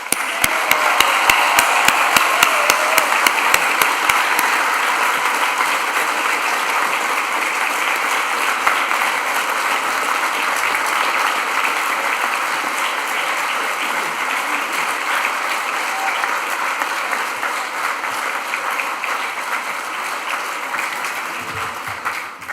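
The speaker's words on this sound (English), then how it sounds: "Please join me in a round of applause for yourselves and the fantastic teaching team." A nursing and midwifery graduation ceremony crowd gives a sustained round of applause, a loud and even roar of many hands clapping that holds steady for over twenty seconds.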